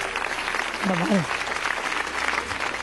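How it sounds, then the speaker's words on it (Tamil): A studio audience at a Tamil television game show claps for participants, a dense, sustained burst of applause with a voice briefly heard over it. "பார்ட்டிசிபேட் பண்ணவங்களுக்கும் ஒரு ஸ்பெஷல் கைத்தட்டல்."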